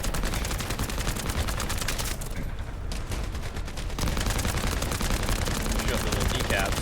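Dense, continuous rapid gunfire from the PC shooter game The First Descendant, loud and relentless, with a brief thinner lull in the middle before the heavy barrage resumes.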